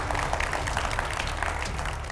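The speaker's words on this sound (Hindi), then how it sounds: "एक बार जोरदार तालियों के साथ सभी का स्वागत हो जाए" A studio audience at a televised Hindu-Muslim debate on the Krishna Janmabhoomi case breaks into loud, sustained applause, many hands clapping together in a dense, even wash that fills the room.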